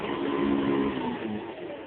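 Hoover Convertible upright vacuum cleaner motor, recently serviced, winding up to a smooth, steady whine nearby, with the pitch rising slightly and holding for about two seconds.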